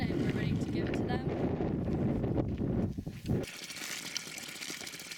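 Water gushes from a hose for camels, a loud steady rushing spray that drops to a thinner trickle partway through, with wind buffeting the microphone.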